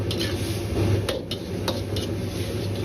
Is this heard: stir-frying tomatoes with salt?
yes